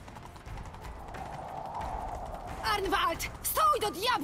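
Horse hooves gallop in The Witcher 3, a quiet, steady clatter under game music, joined near the end by louder voices speaking.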